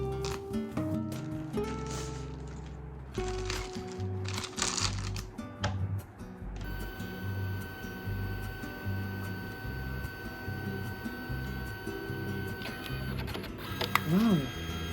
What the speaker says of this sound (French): je suis impatiente de tester l'imprimante photo Wi-Fi aliénée